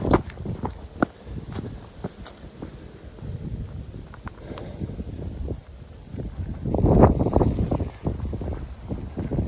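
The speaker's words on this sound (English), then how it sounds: "That sure is breezy." Wind gusting across the microphone outdoors at Elephant Rock State Park, a loud rumbling buffet that swells and eases, with scattered footstep-like knocks and a stronger gust near the end.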